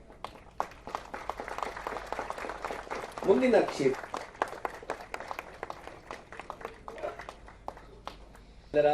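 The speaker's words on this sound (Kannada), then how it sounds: "ಪ್ರೀತಿಯ ಚಪ್ಪಾಳೆ." Applause from an audience at a ceremony honouring handloom weavers: a steady patter of many hands clapping runs throughout, mostly beneath an announcer's ongoing speech, with a brief louder swell near the middle.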